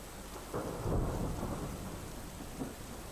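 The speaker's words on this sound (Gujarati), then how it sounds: "સુરેન્દ્રનગર લીંબડીમાં રાતથી જ વરસાદી માહોલ જામ્યો છે" Steady overnight rain in Limbdi, Surendranagar, Gujarat hisses in the background, with low rumbling swells like distant thunder rolling through.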